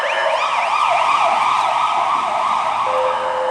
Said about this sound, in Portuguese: Você viu aí, ó, passou agora uma ambulância, certo?